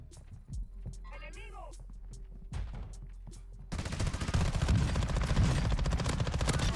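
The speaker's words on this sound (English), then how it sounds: "Shots." Gunfire in Warzone 2 (Modern Warfare II) gameplay: scattered close shots early, then a loud, dense burst of rapid automatic fire filling the last few seconds.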